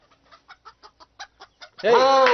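Chickens at a chicken shop cluck in a quick, even series of short calls, then a loud rooster crow cuts in at the end.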